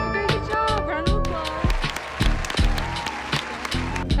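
A school news-show audience applauds after a student correctly names a piccolo, steady clapping with crowd noise and a little talk mixed in throughout.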